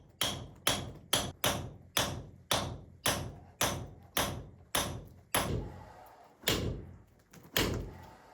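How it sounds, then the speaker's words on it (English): Hammer striking a chisel to break stones free from an outdoor wall, about ten sharp metallic blows in steady rhythm, then a few slower, heavier knocks with loose stone clatter, close and loud. "breaking stones free with a chisel and hammer"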